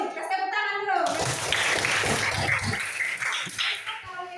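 Classroom children clapping their hands together in a burst of applause lasting a few seconds, fairly faint, with a teacher's voice speaking just before it.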